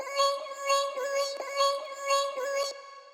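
Self-recorded vocal pitched up and drenched in reverb for a future house lead, a high airy sung tone wavering through a few phrases for about three seconds, alone.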